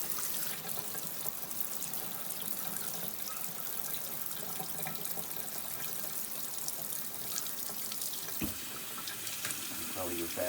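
Water gushes steadily from a household tap at strong pressure, a continuous loud rushing splash into a sink that holds for the whole stretch, with a brief knock near the end.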